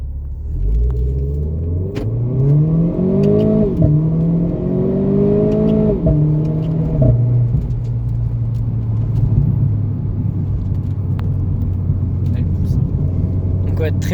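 A Renault Clio 4 RS with 220 hp accelerates hard. The engine note climbs through several gear changes with a loud, rising drone and then settles into a steady rumble, with voices speaking over it.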